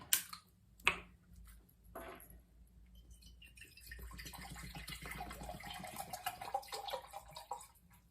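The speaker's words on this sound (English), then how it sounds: "I'm going to add about 400 millilitres of spring water." Spring water poured into a bottle while making Lady Poison gin, a close, continuous splashing trickle building in the second half after a few sharp knocks of glass or a lid at the start.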